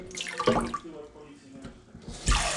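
Water splashes and pours into a Roman clay pot in short bursts, with a louder gush near the end and a voice speaking in between.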